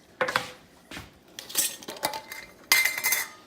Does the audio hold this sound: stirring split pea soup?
yes